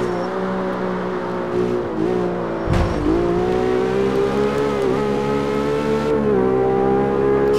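Ford GT in CarX Street holding a loud, steady engine drone with rising harmonic tones through gear changes, a brief low thump near the middle, continuous and close with no talk.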